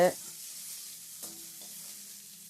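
Chopped onion sautéing in a pan for sweet potato fry sizzles steadily after a short opening knock, with a faint clink midway and no speech.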